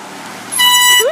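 An air horn prank on a passing car produces a single loud, sustained blast that starts midway and holds to the end over faint traffic noise.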